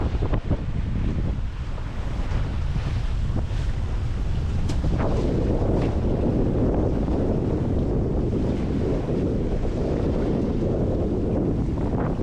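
Gusty wind buffeting a sailboat off St Lucia in the Caribbean, a loud low roar of wind against the microphone with surging gusts over water and wave wash, no talking.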